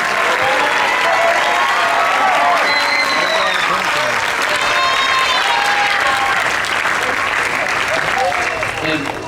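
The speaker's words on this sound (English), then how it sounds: "Let's give them all a round of applause" An audience at a school band awards and dance-off gives parents a round of applause, sustained loud clapping mixed with cheers and scattered voices throughout.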